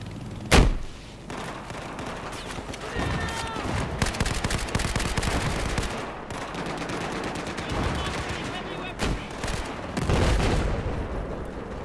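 Anti-aircraft fire in the Battlefield 4 video game: dense, rapid automatic bursts and bangs crackle almost without pause, loud and close, opening with a sharp heavy blast, while voices talk over parts of it.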